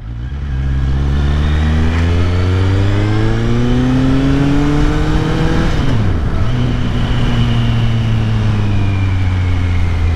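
A Kawasaki Z800 motorcycle engine pulls hard while riding, its loud, close whine climbing through a gear, dipping sharply at a shift, then rising again steadily.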